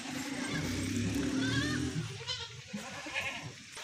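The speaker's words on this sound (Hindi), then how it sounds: "और बकरी भी आपको दिखा दिए माशाल्लाह" Rajanpuri goats and kids at a livestock sale bleat, a long loud wavering bleat up close followed by shorter fainter calls amid background noise.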